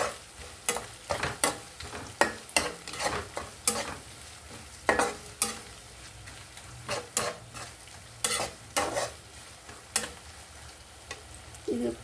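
Ginger garlic paste, pounded from ginger and garlic cloves, fries in a pan with onions and is stirred by hand. Steady soft sizzling runs underneath repeated sharp scraping clicks of the spoon against the pan, heard close up with no talking.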